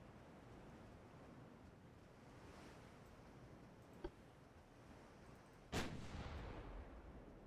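Naval gunfire from a battleship in the warship game Ultimate Admiral Dreadnoughts: a faint single shot, then a louder booming salvo that trails off over a steady ocean-like wash of background noise.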